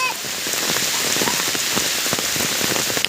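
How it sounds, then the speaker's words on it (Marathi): The first monsoon rain falls on Tukurwadi village in the Konkan, a loud close downpour with dense pattering drops hitting surfaces, steady throughout. "खूप दिवसांनी पाऊस पडला"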